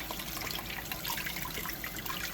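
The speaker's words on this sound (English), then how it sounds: "See how the water runs clear?" Water running and splashing over homemade butter as it is rinsed by hand, a steady broadband wash of liquid noise with no talking.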